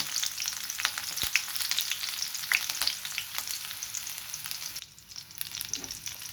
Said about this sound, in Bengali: কড়াইতে সরিষার তেল আর একটু সম্বারা ফোড়ন দিয়ে পেঁয়াজ রসুনগুলো একটু ভালো করে